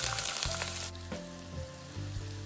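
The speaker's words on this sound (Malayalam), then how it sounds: "എണ്ണ ചൂടായി വരുമ്പോൾ ഇതിലേക്ക് സവാള അരിഞ്ഞതും ചോന്നുള്ളി അരിഞ്ഞതും ചേർത്ത് കൊടുക്കുന്നു" Sliced onions and shallots hit hot coconut oil for a Kerala-style chicken curry, giving a loud, dense sizzle that drops after the first second into a steadier fry with a few clunks, no voices.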